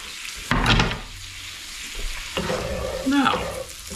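Ingredients for an Irish-style paella sizzle in a hot pan while a utensil stirs and scrapes them in uneven bursts, close and fairly loud with no talking.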